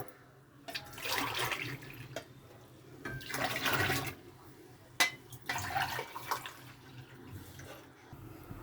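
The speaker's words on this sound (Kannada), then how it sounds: "ಆರು ಲೋಟ ಅಷ್ಟು ನೀರು ಹಾಕೊಬೇಕು" Water is poured into rice flour with salt while making dough for vegetable kadubu, heard as several splashing, gurgling pours in bursts with short pauses between them, close and moderately loud.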